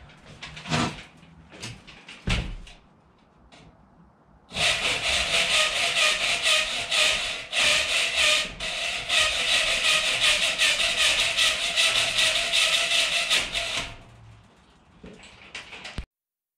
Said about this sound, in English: got the hacksaw here